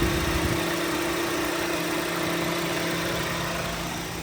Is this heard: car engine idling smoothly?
yes